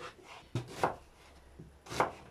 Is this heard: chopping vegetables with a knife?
yes